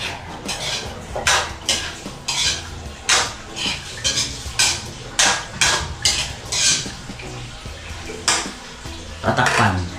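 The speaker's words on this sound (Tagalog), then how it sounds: "Tapos po, hahaluin." Potatoes and carrots stirred in a metal cooking pot, a series of loud rhythmic clanks and scrapes of a utensil against the pot, close by.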